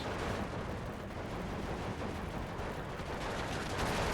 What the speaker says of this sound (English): I got the half track as well, firing down the road at these guys